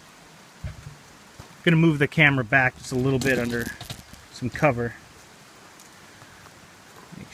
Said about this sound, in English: see, we're getting a little rain here.